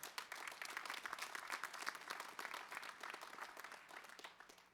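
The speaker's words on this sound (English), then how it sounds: "So, huge round of applause." A round of applause at a conference closing ceremony: many hands clapping in a dense, steady patter that carries on throughout without a break.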